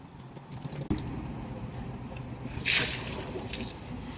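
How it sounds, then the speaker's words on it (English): Water splashes and sloshes over a large 32-inch carbon steel paella pan as soap is rinsed off outdoors, a steady wet wash with a brighter splashing burst near the end. "Okay, rinse."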